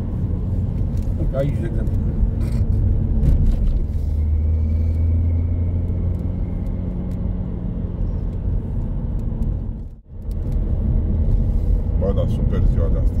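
Renault Laguna Coupe on the road, steady interior engine and tyre rumble throughout with people talking over it, a brief drop near the end.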